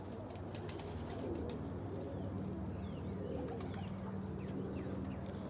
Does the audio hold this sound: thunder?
no